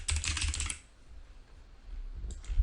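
Quick clicks come from a computer keyboard as a program name is typed, a dense burst of keystrokes, a short pause, then a few more taps close by.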